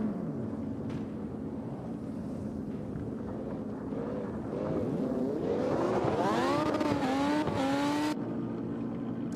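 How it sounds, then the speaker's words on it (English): Toyota Corolla engine on a test drive, revving hard with a rising, wavering pitch and tire squeal building toward the end, loud and close with no talk. "Wayne giving the Corolla a test here."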